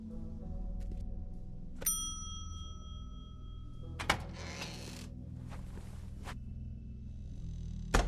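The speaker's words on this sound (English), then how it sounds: "ring the bell." A doorbell in the video game The Wolf Among Us rings with a bright metallic ding that hangs and decays, followed by a few soft clunks and knocks over a quiet low hum.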